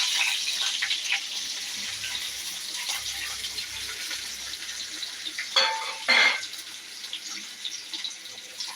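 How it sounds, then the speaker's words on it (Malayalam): Mustard seeds frying in hot oil as a tempering for sambar, giving a steady sizzling hiss with a louder burst of spluttering pops near the end, close by and heard alone. "ഈ കടുക് വറുത്ത് നമുക്ക് സാമ്പാറിലേക്ക് ഒഴിക്കണം"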